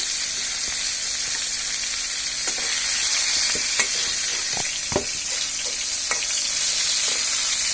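Eggplant pieces fry in hot oil in a pan with a steady, close sizzle, broken by several sharp clicks and scrapes of stirring.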